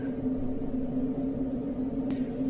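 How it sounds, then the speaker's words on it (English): Aircraft refueling by ground crew in the flight simulator DCS World: a steady, loud mechanical hum with a constant droning tone runs throughout, with one brief click near the end. "And that is the sound of refueling."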